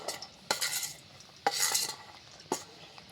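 A spoon scrapes and stirs sabudana with spices and red chilli in a bowl, three distinct scraping strokes about a second apart over a quiet background, close and fairly soft.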